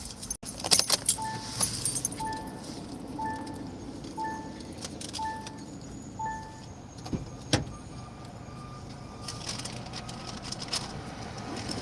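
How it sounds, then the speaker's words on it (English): Car keys jingle up close, and then the car is started, with a repeating electronic chime pinging at a steady rhythm and a few clicks and clunks from inside the vehicle. "Let me get my car started."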